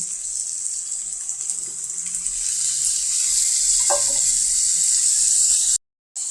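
Potatoes and cauliflower frying in a pan, a continuous bright hiss of sizzling oil that swells slightly as it goes on, with a faint clink partway through before a sudden cut.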